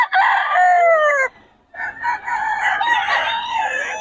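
A gamefowl crows once, loud and near, breaking off after about a second, then a flurry of overlapping crowing and clucking from other birds follows.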